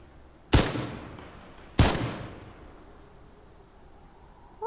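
Two sharp gunshots in a Fortnite match, spaced about a second apart, loud and close, each with a short decaying tail, followed by quieter ambient game sound.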